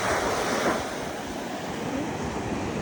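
Surf rolls steadily onto a seashore on a sunny morning, a broad continuous wash of breaking waves close by with wind noise over the microphone, no talking.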